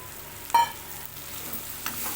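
Onion and bitter gourd pieces are stirred together in a frying pan, giving a quiet, steady fry with a couple of brief, sharper scrapes.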